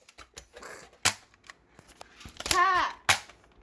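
Toy Nerf blasters firing foam darts in a play battle: several sharp pops and clicks scattered through a close, quiet room, with a child's cry mixed in between the shots.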